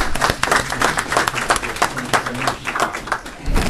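A room at a community council meeting claps for a guest speaker: close, uneven clapping from a modest group with a low murmur underneath, pulsing irregularly for a few seconds.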